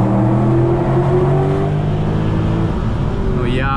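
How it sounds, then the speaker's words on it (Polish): Audi S6 C5 (2000) with an older V8 MPI engine pulling hard on a motorway, a loud steady in-cabin drone with rising engine tones throughout, a faint higher tone sweeping in near the end. "no to jest V8 i to jeszcze taka starsza, sprawiedliwa MPI, można gazować sobie ją"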